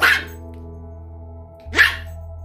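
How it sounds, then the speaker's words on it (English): Two sharp, high-pitched barks from a teacup Yorkie at puppies, spaced about a second and a half apart, over a steady low hum. "So there you see Drill Sergeant Buttons teaching the puppies to respect little dogs."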